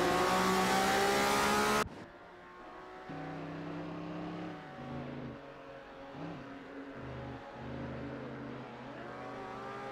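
Racing-game engines from a Lamborghini 400 GT, a Pontiac and other cars on a track roar loudly, a sudden loud burst cutting off into a steady multi-car drone with rising and falling revs and gear shifts.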